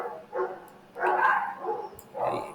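Dogs barking out on a residential street, a few separate bark bursts at moderate distance, with brief gaps between them and no talk over them.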